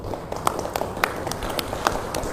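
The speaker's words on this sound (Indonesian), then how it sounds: "tepuk tangan dulu dong." Audience at a gathering with a minister claps, a moderate spread of hands with scattered sharper individual claps standing out, fairly soft and steady throughout.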